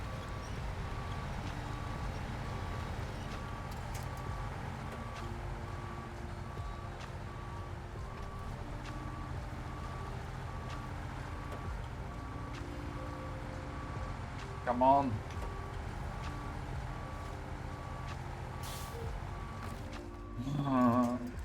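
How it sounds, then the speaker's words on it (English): A heavy truck being winched in the Snowrunner video game, with a steady mechanical drone and a faint sustained tone, two short clunks near the end, and a voice speaking briefly. "Okay, let's use a winch."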